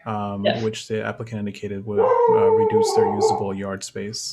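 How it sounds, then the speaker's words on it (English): A dog howls and yips at home during an online zoning board meeting, its drawn-out wavering howl rising over a man's speech partway through and then fading back under his voice. "Sorry for my dog."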